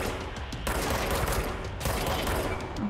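Sustained automatic gunfire from an enemy in the video game Control rattles in dense, loud bursts, with one break near the start before a second volley rips through.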